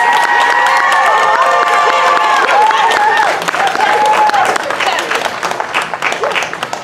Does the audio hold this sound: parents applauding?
yes